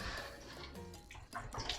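Brined pork belly gets a brief rinse under running water, a soft splashing pour that swells toward the end, close but quiet.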